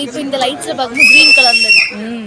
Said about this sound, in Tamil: இப்போ விசில் சவுண்ட் இப்பவே பாருங்க.